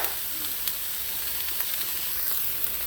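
Onions sizzle in a hot pan, a steady close hiss of frying with faint crackles and pops, continuous and alone without speech.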